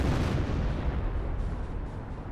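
In Company of Heroes, an artillery barrage slams down on a German Nebelwerfer rocket launcher, a dense, loud rumble of overlapping blasts and booms that slowly eases over a couple of seconds.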